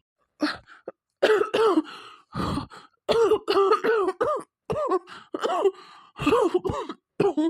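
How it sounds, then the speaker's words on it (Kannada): A cartoon character breaks into a coughing fit, a run of harsh, throaty hacks in uneven bursts with short gasps between them, close and loud against silence, voiced as an acted cough. "ಕೆಮ್ಮು ಶುರುವಾಗುತ್ತೆ"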